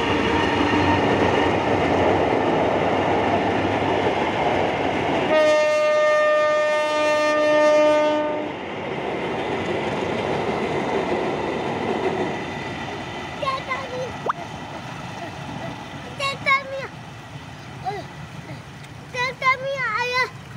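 Locomotive BB203 on a dynamic test run passes a level crossing at Perbaungan, a loud sustained rumble with a long tonal horn blast partway through, while people talk and shout nearby.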